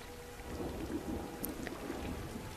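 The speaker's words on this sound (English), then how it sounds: "Heavy rain pouring down, hindering your vision." Heavy rain pouring down with rolling thunder, a dense steady wash of rainfall under a low continuous rumble, close and unbroken with no voices.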